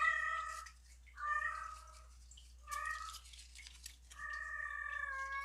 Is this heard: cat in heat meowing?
yes